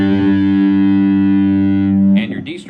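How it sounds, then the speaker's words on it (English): A three-string cigar box guitar in GCG tuning, played through massive distortion on a Micro Cube amp, rings out a loud, sustained, buzzing chord that breaks into a rougher scrape at the end. "I accidentally flipped on my massive distortion on my micro cube"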